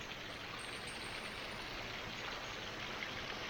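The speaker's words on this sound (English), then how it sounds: "Here's water pouring down the mountainside from recent rains." Water rushes down a mountainside after Arizona monsoon rains on a hike from Sabino Canyon to Mt Lemmon near Tucson, making a steady, even broadband roar with no breaks, fairly faint and distant.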